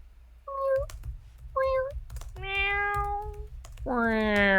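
A person imitates a cat, giving four drawn-out meows that rise in length and pitch, the last one long and sliding, over steady keyboard typing clatter.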